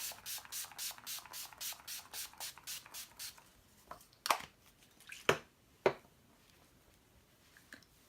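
Urban Decay All Nighter setting spray mists from its pump bottle in a quick run of about eleven short, evenly spaced close spritzes, followed by a few sharper isolated clicks and rustles over quiet room tone.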